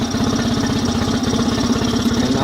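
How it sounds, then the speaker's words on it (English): A warmed-up Mercury outboard motor idles steadily at about 960 RPM, a close, even mechanical drone with a fast regular pulse and no talking. "The motor's warmed up around 960"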